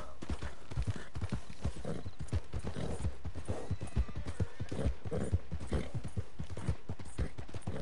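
Rapid rhythmic hoofbeats of a galloping horse in the video game Red Dead Redemption Online, loud and close, continuing steadily throughout.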